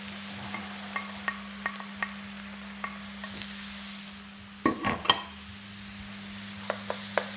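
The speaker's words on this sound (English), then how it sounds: "I'm going to throw in my eggs." Eggs frying and being stirred in a pan, heard as a soft steady sizzle with a low constant hum beneath, light clicks of a utensil against the pan, and a brief louder scraping burst midway.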